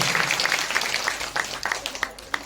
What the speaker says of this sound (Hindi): आप सभी के लिए जोरदार ताली का स्वागत करेंगे।